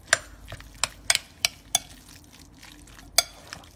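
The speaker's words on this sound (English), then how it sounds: "and then just going to mix it up." Pickle relish and mango being stirred together in a pan, with a handful of sharp spoon clinks and scrapes against the metal spaced irregularly over a soft low background, no talking.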